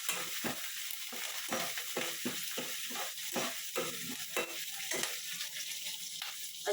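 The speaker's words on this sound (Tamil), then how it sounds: "ஒரு 5 பச்சை மிளகாய், ஒரு நெல்லிக்காய் சைஸ் புளி எடுத்துருக்கேன், கொஞ்சம் கருவேப்பிலை, இதெல்லாம் கொஞ்சம் ஃப்ரை பண்ணிக்கலாம்." Green chillies, tamarind and curry leaves fry in a pan for cabbage chutney, giving a steady crackling sizzle broken by repeated scraping stirs, close and fairly quiet with no talking.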